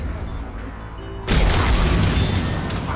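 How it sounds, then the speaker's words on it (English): After a quieter stretch, a Singularity Warp detonation in Mass Effect 3 bursts in suddenly, a loud broadband boom that lingers as a sustained rumbling roar through the rest of the moment. "Singularity Warp is an explosion"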